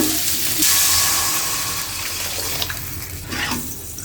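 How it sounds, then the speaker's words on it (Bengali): Water poured into a pan of curry cooked with turmeric, a steady rushing pour with hissing sizzle from the hot pan, continuous and close, with a few clinks near the end. "জলটা দিয়ে নিই"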